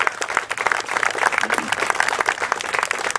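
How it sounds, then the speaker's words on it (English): An outdoor crowd at a march closing ceremony claps for itself, a dense, lively round of applause with a few voices mixed in, steady throughout. "give yourself a round of applause for coming out"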